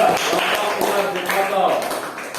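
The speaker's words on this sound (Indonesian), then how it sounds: "Kasih tepuk tangan buat kelompok 2" Students in a 4th-grade classroom clap together for a group, a dense continuous patter of many hands with children's voices mixed in.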